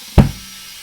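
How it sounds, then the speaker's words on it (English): A single sharp pop as a car tire bead seats on the rim during a home TPMS sensor replacement, brief and close, fading quickly into quiet. "So just get ready for the pop when this thing seats."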